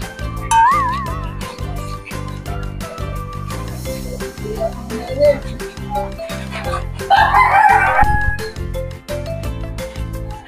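Pet birds, chickens and a rooster crowing amid a dense, busy mix of clucks, chirps and whistles, fairly close and continuous over a steady layer of other noise.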